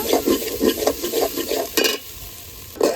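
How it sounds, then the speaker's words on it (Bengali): Tomatoes and spices for egg pulao are stir-fried in a pan, with a steady sizzle and regular scraping strokes of a spatula repeating about every half second. The sound is close and clear, and no one speaks. "এখন টমেটোটা খুব ভালোভাবে কষিয়ে নেব।"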